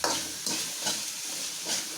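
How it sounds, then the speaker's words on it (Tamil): Steady close sizzling of onions frying in a pan until golden, with soft stirring scrapes now and then and no voices. "வெங்காயம் நல்லா வதங்கணும், நல்லா பொன்னிறமாக வதங்கணும்"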